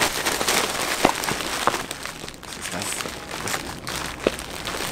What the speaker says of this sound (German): Es raschelt jetzt.